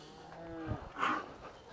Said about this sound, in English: I'm going to bring these cattle by me one at a time